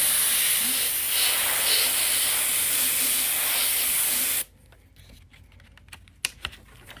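Airbrush sprays face paint through a stencil held on the skin, a steady close hiss that runs unbroken for about four seconds, then stops abruptly, leaving faint scattered clicks and handling noises.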